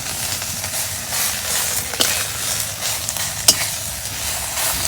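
Fish cooks with bottle gourd in a pan, sizzling loudly and steadily from close by, with a couple of sharp clinks of stirring cutting through.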